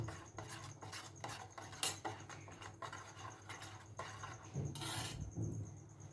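Spice mix of chili powder, salt and turmeric for egg bhapa stirred in a bowl, a quiet close rhythm of spoon scrapes and taps, steady and repeated, no talk.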